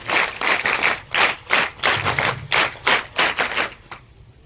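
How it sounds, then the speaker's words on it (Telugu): A group of scouts clapping in unison, a loud rhythmic pattern of about a dozen sharp, evenly spaced claps close by, ending with one last clap and then quiet. "Scout claps go."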